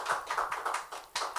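An audience applauds to welcome an honoured guest at a stage event: a short burst of dense, moderately loud clapping that swells in waves, with no voices.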